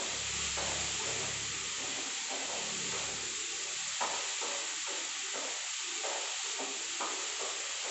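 Beetroot with mustard seeds being stirred in a pan after salt is added, a quiet steady sizzle and hiss with soft intermittent scraping of a spoon, close and faint.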